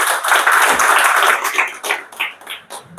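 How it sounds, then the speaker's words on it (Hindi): An audience at a business opportunity meeting bursts into loud, dense clapping that thins into scattered, separate claps toward the end. "एक जोरदार ताली।"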